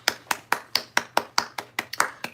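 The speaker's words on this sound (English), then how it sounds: "Clap it up." About ten sharp hand claps at a steady, brisk rhythm, close and fairly loud.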